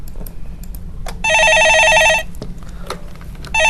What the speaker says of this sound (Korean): 신호는 가고 있는데 연락이 안 되는 것 같네요.